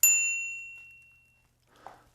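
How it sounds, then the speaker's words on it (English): A bicycle bell on a Cycanon step-through fat tire e-bike gives a single bright ding that rings out and fades slowly, followed by a faint soft knock. "Got a bell."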